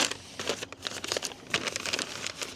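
Eco-friendly paper packaging holding screws for a Parkside 40 volt cordless lawn mower is torn and crumpled up close, a brief burst of crinkling and ripping.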